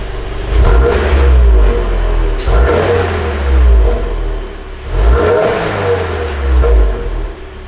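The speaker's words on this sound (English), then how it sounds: "a couple blips just to warm up the exhaust a little bit" A 2022 Subaru WRX fitted with a Remark exhaust revs in three or four sharp throttle blips, each rising to a deep, loud roar and falling back to idle, close by with no talking.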